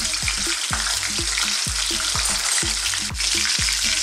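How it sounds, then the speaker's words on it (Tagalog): Tuna sizzles loudly in hot oil in a pan for a Filipino coconut-milk dish, with a steady hiss and repeated low knocks and scrapes from handling the fish, continuous throughout. "Fry natin ang ating tuna"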